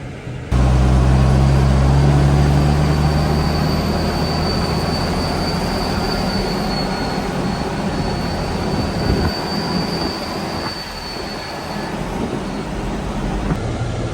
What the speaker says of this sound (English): The only thing that's better than the turbo noise on the 820 is the fact you can open the front window and listen to it.